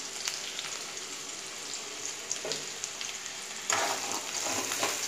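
Green chillies and chopped onion sizzle and fry in hot oil for a drumstick curry, a steady crackling hiss that turns louder and denser near the end, with a few stirring scrapes.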